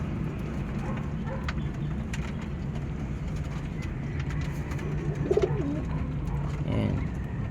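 Soft pigeon coos rise briefly over a steady low rumble of outdoor background noise, with a few faint clicks scattered throughout.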